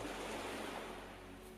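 Calm ocean waves in a meditation soundscape, a soft continuous wash of surf, faint and steady with no voices.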